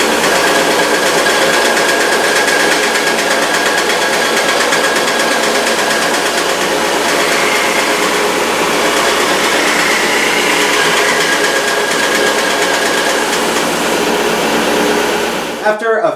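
A thickness sander grinds paint off a replica guitar body, a loud, steady, dense mechanical roar that runs unbroken for the whole stretch before cutting off abruptly at the end.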